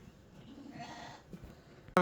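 Sheep, recently bought ewes on a farm, bleat in a low, murmuring blend that swells midway, with a sharp louder cry bursting in at the very end.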